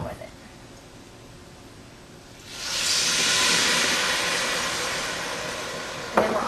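Burgundy wine poured into a hot pot for New England pot roast sets off a sudden loud, steady sizzling hiss that holds for several seconds after a quiet start.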